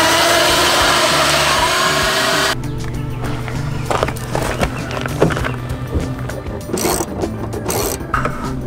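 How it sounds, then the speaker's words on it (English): A vacuum cleaner roars steadily at first, then its tone drops and the noise turns uneven, with scraping and knocking as the nozzle works over a car's interior surfaces with a seat removed. "Just go ahead and vacuum it clean."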